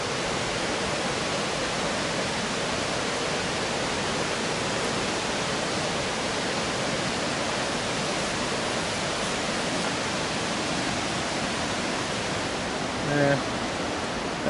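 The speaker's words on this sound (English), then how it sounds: "this river's well loud" A loud river rushing steadily, a dense unbroken roar of flowing water close by that fills the whole stretch, with a brief faint sound near the end.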